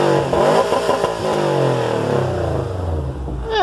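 A Subaru engine revs hard close by, its pitch sweeping up and then falling back in a long rising and sinking roar, with no voices over it.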